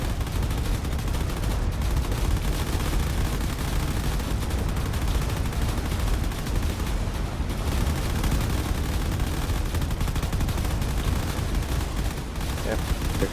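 Drone fighters fire weapons in a video game battle: dense, continuous rattling gunfire and explosive bursts fill the whole stretch, loud and close with no pauses.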